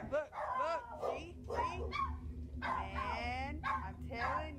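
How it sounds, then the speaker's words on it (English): Several dogs bark repeatedly in a yard at night, loud and close, with sharp overlapping yelps in bursts over a steady low background hum. "Ignore my dogs."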